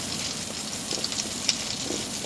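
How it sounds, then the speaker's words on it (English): Butter sizzles and crackles steadily in a frying pan on a home stovetop, a soft continuous hiss with small pops, close up and alone without speech. "I'm going to add some more butter."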